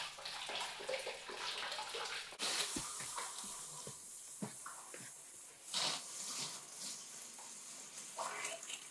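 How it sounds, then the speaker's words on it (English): Water gurgles and hisses steadily out of drained septic system pipes at a new house build, a continuous rushing flow with scattered knocks and splashes. "We'll see how much water comes out when we drain it"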